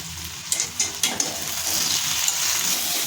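Fried jackfruit being stirred with Kashmiri chili powder and salt in a hot pan: a few quick scraping clacks of a spoon over a constant bright sizzle, close and without talk.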